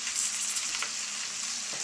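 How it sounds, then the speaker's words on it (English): Chicken pieces laid skin side down for crispy maple-cider chicken sizzle in a hot frying pan, a steady, close, even hiss of fat that runs alone throughout. "Skin side down. Should sizzle, should not scream at you."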